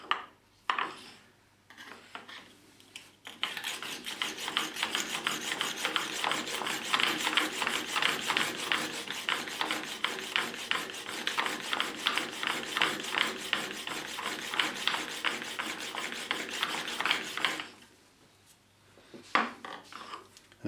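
A chisel is sharpened on the 220 grit plate of a Trend fast track sharpener, making a steady, rhythmic metallic rasp of quick back-and-forth strokes. It runs for about fourteen seconds, then stops, leaving a few faint knocks.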